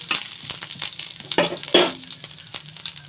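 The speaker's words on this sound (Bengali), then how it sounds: "আদাটা আমার ভাজা হয়ে গেছে," Crushed ginger fries in hot oil for a coriander-leaf pickle, a steady close sizzle broken by several spoon scrapes and light clinks of stirring against the pan.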